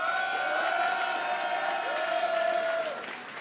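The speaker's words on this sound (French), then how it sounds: "on va faire par applaudissement" A studio audience at a French talk show claps and cheers to vote for option B, a steady wash of applause with whoops and voices riding over it, fading slightly at the end.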